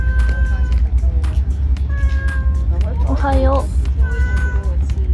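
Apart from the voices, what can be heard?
cat meowing on Naoshima island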